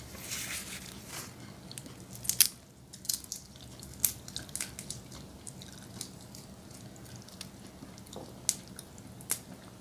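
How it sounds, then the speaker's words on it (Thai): Water drips in scattered, irregular drops, close and fairly quiet, each a small sharp tick over a soft steady background hiss. "น้ำหยด"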